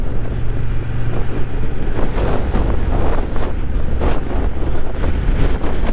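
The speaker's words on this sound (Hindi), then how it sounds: "कितनी तेज़ हवा चल रही है।" Strong wind at high altitude in Spiti's Pin Valley roars against the microphone while a Honda CB750 Hornet motorcycle rides along, loud, continuous gusty buffeting with low engine rumble beneath.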